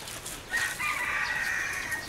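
A chicken on a small farm gives a drawn-out crow with clucks around it, clear and fairly close against quiet outdoor background.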